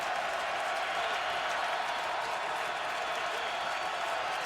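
A packed stadium crowd at a Ravens football game roars continuously, a dense, loud wash of cheering and applause with no breaks, heard close and all around.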